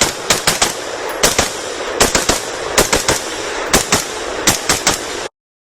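Gunfire at an outdoor rifle range during a 2-gun class: rapid bursts of two to four sharp shots, repeating in an even rhythm for about five seconds, loud and close, then abrupt silence.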